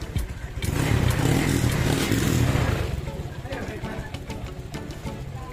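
A Honda Click 150 scooter, repaired after an electric-start fault that kept blowing its fuse, runs nearby with a steady engine drone that swells for a couple of seconds and then settles to a lower idle, with some talk in the background.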